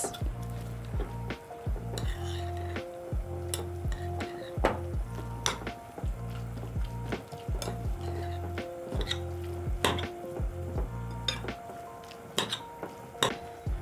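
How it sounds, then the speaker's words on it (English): A spoon mixing slaw ingredients in a bowl, with repeated soft scraping, squishing and clinking strokes at a steady, close pace and a low hum underneath. "Then I'm going to use a spoon and mix together all my ingredients."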